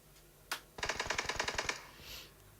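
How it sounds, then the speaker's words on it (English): Gunfire in the battle royale shooter PUBG, one sharp shot followed by a rapid automatic burst of about a dozen evenly spaced cracks, loud and close, then a brief trailing rumble. "And here come the shots."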